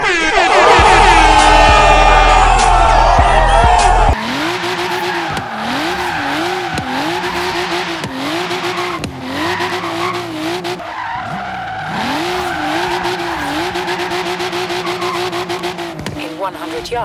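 A car drifting in Forza Horizon 3 with long, loud tire squeals that wail and wobble in pitch over engine roar, after an opening burst of horn-like blaring.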